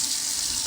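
Water runs steadily from an old tap during a home inspection test, a constant close hiss with no talk over it.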